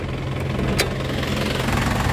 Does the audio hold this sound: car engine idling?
yes